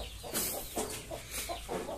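Small young chickens on a duck-raising farm clucking repeatedly in short, close bursts, with a steady murmur of other fowl behind them.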